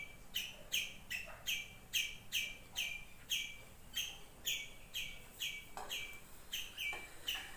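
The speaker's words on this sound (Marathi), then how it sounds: "पक्ष्यांचा आवाज किती येतोय" Birds chirp outdoors near trees in a quick, regular series of bright repeated calls, fairly faint and distant, with no talking.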